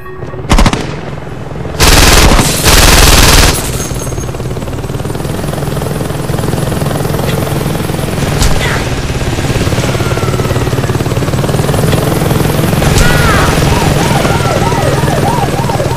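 A helicopter in the video game Saints Row 2 thrums loudly and steadily near a rooftop, with bursts of automatic gunfire early on and scattered shots over the continuous rotor noise.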